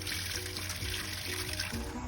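Water leaking from a broken riser on a running lawn sprinkler system, a steady hissing trickle that continues evenly throughout without any voices.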